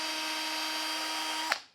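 A cordless drill on speed setting 2 runs steadily with a high whine as a compliant sponge polishes a paint scratch on a car bumper, then stops abruptly with a short winding-down tail.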